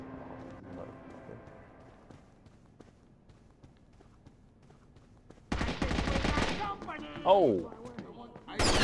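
Video game gunfire erupts as loud, rapid bursts in the second half, following a stretch of quiet ambience with a brief exclamation. The shots are close and dense, like a machine-gun exchange.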